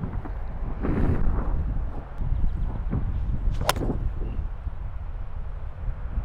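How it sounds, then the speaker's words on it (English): Gusty wind rushes across an open golf course, a steady low rumble of buffeting against the microphone that swells and eases, with a brief voice and a faint sharp tone partway through. "Oh, the wind is just killing it."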